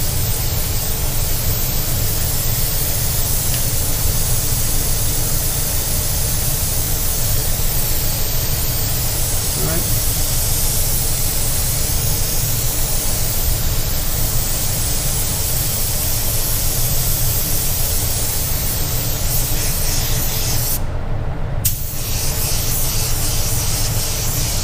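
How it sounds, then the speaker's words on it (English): Air blower hissing steadily and loudly over a freshly painted panel, a continuous close rush of air for the whole stretch with one brief cutout near the end. "I'll blow it dry since it's warm out."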